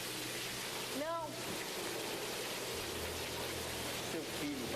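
Heavy rain pouring down on a street at night, a dense, constant roar that fills the scene, with a brief voice cutting through near the start.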